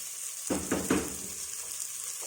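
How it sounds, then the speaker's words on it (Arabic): Onions hit a hot pan for yellow koshari, setting off a brief burst of sizzling against a steady background hiss, then settling into a quieter frying sound. "البصل انا هديها تشويحه بس كده تشم ريحه العدس وتدبل معايا شويه"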